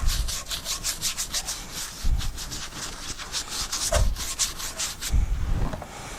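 Wood spins on a lathe while 120-grit abrasive rubs against it with a sanding paste of lemon oil, beeswax and mineral oil, giving a close, steady rhythmic scratching with regular soft thumps underneath.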